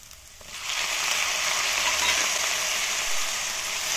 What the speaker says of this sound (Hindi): प्याज को हमें थोड़ा सौते करना है। अब हम टमाटर डाल देंगे।